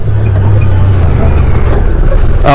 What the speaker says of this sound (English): Let's test out the brakes.